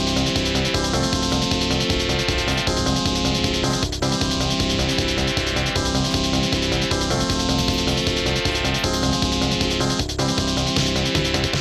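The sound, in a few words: arcade game soundtrack played on vinyl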